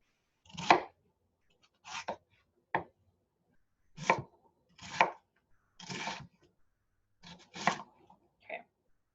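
A knife chopping an onion on a cutting board, about nine separate crisp thunks at uneven intervals with silence between, close and clear, no talking.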